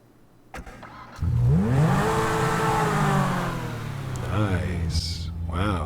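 The Pegassi Zentorno supercar in the GTA video game starts up and revs, its engine note climbing in a smooth, loud sweep that settles into a sustained rumble before rising again, with speech faintly present.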